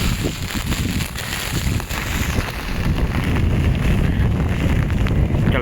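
Strong cyclone wind during Cyclone Ditwah in a Jaffna village roars and buffets a nearby microphone, a loud, continuous rumbling gust with no voices.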